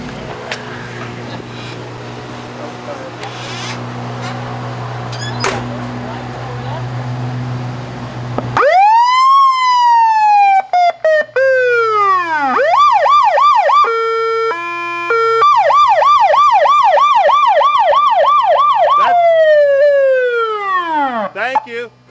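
A loud wailing siren on a 1975 Michigan State Police car starts after a stretch of engine rumble, sweeping up and down, then switching to a fast yelping warble, close and continuous.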